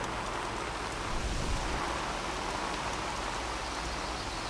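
Steady rainfall in the video game LEGO Jurassic World hisses evenly, a soft continuous wash of drops with no voices, fairly faint and unchanging throughout.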